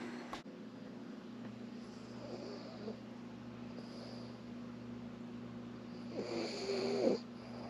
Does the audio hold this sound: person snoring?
yes